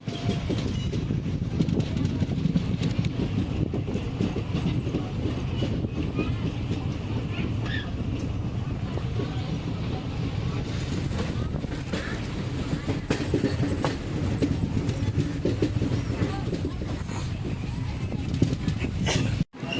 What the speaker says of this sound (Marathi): समोरच रेल्वे लागलेली इथं आपल्याला त्या रेल्वेमधून तिरुपतीला जायचे